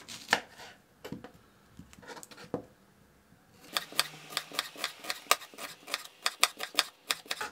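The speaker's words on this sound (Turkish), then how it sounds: "Bir tane de soğan doğruyorum." Knife chopping an onion on a board: a few scattered cuts at first, then a quick, steady run of crisp chops, close and clear.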